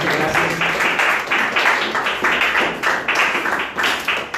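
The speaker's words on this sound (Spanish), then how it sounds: "Les pido por favor aplauso para Eco Moneda que nos han acompañado." An audience at an evening church talk claps in a brisk, fairly close round of applause, the individual claps forming a rhythmic patter that stays steady throughout.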